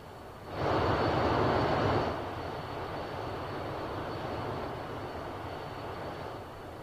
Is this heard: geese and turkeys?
no